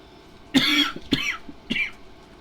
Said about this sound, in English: I always feel bad coughing